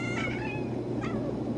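Several cats on a farm meow in quick succession close by, plaintive calls rising over steady low background noise with no talk.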